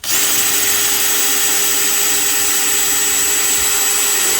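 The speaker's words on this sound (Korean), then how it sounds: "그래서 여기를 구멍을 좀 원활하게 해서 3군데를 뚫어줍니다" A power drill bores holes through a shelf piece for a freshwater fishing platform cup holder, giving a loud, steady, continuous whine close by with no pauses.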